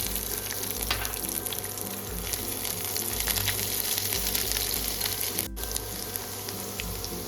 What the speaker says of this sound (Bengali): রসুনটা হালকা নাড়াচাড়া করে নিয়েছি